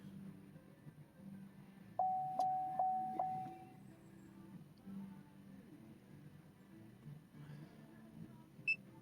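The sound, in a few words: vehicle low battery warning beeping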